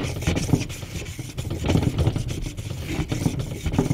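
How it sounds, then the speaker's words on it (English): A Helle Nying knife blade is drawn across a 6000 grit whetstone: soft, close wet scraping in repeated strokes with a faint rhythmic rasp over low background rumble, and no voices. "Just finishing up on that 6000 grit stone"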